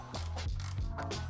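A ratchet tightening an upper screw gives several short, close bursts of crisp pawl clicking, heard alone with brief pauses between turns.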